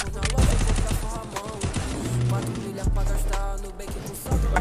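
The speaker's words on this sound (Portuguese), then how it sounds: "Zulu, um tiro!" Rapid bursts of Free Fire gunfire crackle loudly over a dense, busy mix of game sounds and music.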